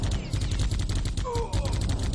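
Rapid video game gunfire in Geist on GameCube, a dense burst of repeated shots with a brief rising electronic tone partway through, loud and continuous.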